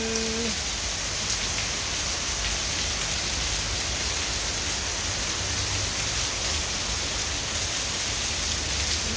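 Rain falls hard and constantly, a thick wash of spattering drops on surfaces that holds at an even, close volume throughout, with no one talking.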